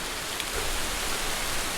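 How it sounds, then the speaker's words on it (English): Rain begins falling on a stream trail in a ravine, a soft, even hiss of drops that holds steady and faint. "It just started raining"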